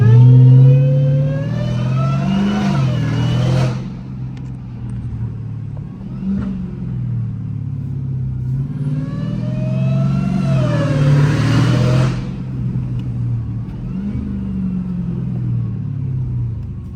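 A 1000 hp Dodge Demon Charger running with no hood, its engine revving hard twice with rising, roaring pulls between a deep rumbling idle, loud and close.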